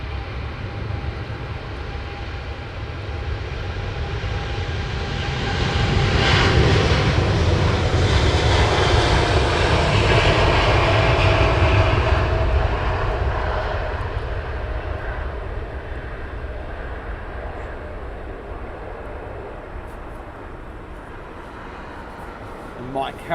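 Jet airliner engines roar at London Heathrow Airport, a broad loud rumble that swells to a peak midway as a plane passes, then fades gradually, with commentators talking over it.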